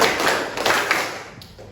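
Hand-clapping drill in a classroom lesson, a few soft claps and taps close by in quick succession over a brief moment, trailing off at the end.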